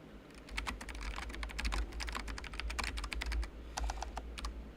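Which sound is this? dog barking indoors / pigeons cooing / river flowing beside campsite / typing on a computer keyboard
typing on a computer keyboard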